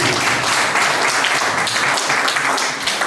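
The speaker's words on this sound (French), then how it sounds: "Mais applaudissez pour Fatih." People at a parish health day event applaud together, a thick and continuous wash of clapping that stays loud and close across the clip with no speech.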